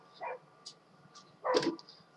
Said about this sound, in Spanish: el perro ladra muy fuerte